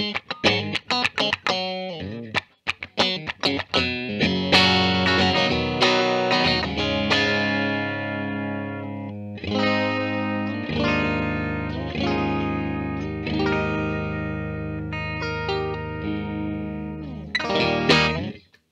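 Fender Japan Michiya Haruhata Stratocaster electric guitar on the bridge and middle pickup combination, playing a loud run of quick picked notes that settle into sustained chords and lines, with chorus and effects shimmer.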